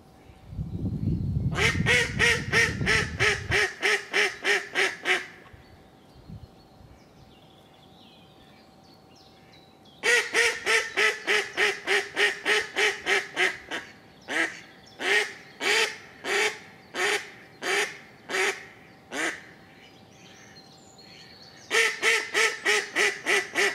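A tethered decoy duck quacks during a spring duck hunt, loud close series of rapid, evenly spaced quacks in several bursts separated by pauses, with faint low rumble at the start.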